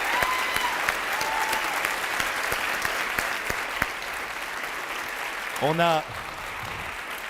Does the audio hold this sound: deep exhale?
no